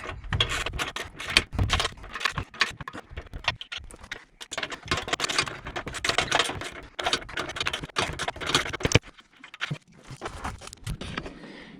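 A 3/8 ratchet wrench loosening bolts on a 2019 Jeep Wrangler JL front bumper, heard as close, irregular bursts of rapid clicking and scraping, with clanks and brief pauses between turns.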